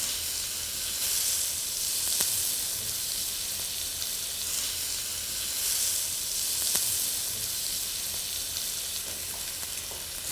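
Salmon fillets blackening in browning butter in a hot pan give off a steady, loud, close sizzle and crackle that runs unbroken throughout, with no voices.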